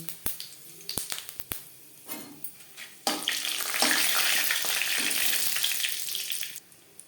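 Dry red chilli pieces, a bay leaf and a spoon of panch phoron fry in hot oil. A few sharp crackles and taps come first, then a loud, steady sizzle rises and holds before easing off at the end.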